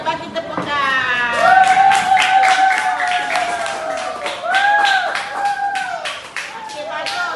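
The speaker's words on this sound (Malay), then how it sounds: "bagi tepukan" Students in a classroom give a round of clapping for a group, a dense, fairly loud burst of hands under overlapping voices.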